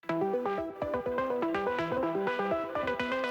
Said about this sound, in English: Max came up with this like little ARP motif pattern thing here